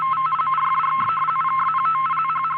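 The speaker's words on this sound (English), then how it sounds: "This is the sound of RTTY in action." RTTY radioteletype signal received on shortwave radio, a steady two-tone warble rapidly shifting between pitches in a continuous data stream, with a constant hum beneath and no voices.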